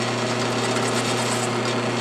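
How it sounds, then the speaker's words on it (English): A sharp step drill bores out Delrin plastic washers held with pliers, producing a steady, dense grinding whir that runs unbroken and fairly loud for the whole stretch. "I found that I had a step drill that was sharp enough to actually do it"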